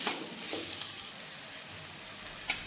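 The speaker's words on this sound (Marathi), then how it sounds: "आता काकडी छान परतली बघा." Cucumber and other vegetables fry with salt in a pan for a spicy cucumber amti, a continuous close sizzle with occasional light stirring clicks.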